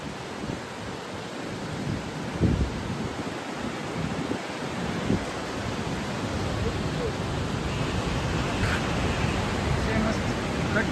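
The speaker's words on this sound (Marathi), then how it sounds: "या बघा लाटांचा आवाज किती मोठा येत आहे" Loud sea waves at high tide near Ratnadurg fort, heard as a dense, steady roar of surf that fills the whole stretch without a break, close and strong, with a few faint bumps of handling noise.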